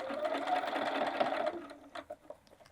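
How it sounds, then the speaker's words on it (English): A sewing machine stitches a bag seam with a fast, steady mechanical whir for about a second and a half, then slows into a few separate needle thumps. "And then I'm just going to sew 1/8 of an inch in from the side seam."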